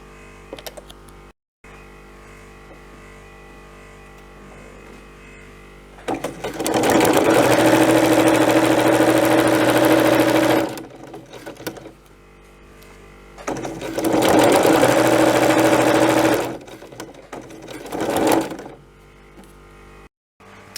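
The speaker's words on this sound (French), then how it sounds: "maintenant que j'ai cousu donc les deux côtés de ma pochette" A sewing machine stitching the sides of a fabric soap pouch hums loudly through two long runs of steady, fast stitching, with quiet pauses before, between and after them.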